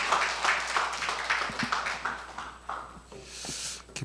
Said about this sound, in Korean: 목사님 나오시네요. 박수로 환영하겠습니다